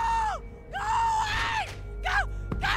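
A woman in The Walking Dead game (Telltale, Season 1, Episode 3) screams repeatedly in several strained, wavering bursts, loud and close, with short gaps of breath between them.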